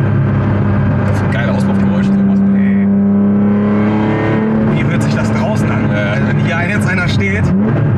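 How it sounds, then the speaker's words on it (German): A BMW car engine drones loudly with rising and falling exhaust revs, heard from inside the vehicle while people talk over it. "Geiler Auspuffgeräusch, sowas."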